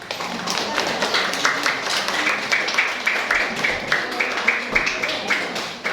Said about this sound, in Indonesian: Boleh tepuk tangannya dulu